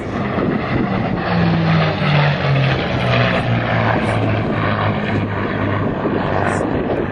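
A P-51 Mustang with a Packard-built Rolls-Royce Merlin engine roars past loud and close, a steady heavy propeller drone whose pitch sweeps downward as it flies by, with no voices heard.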